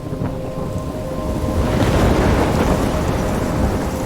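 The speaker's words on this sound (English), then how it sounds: "I'm trapped in a storm?" Thunderstorm in the video game Life is Strange: a loud, steady roar of heavy rain and gusting wind swells after the first second and rumbles on with thunder, with no talking.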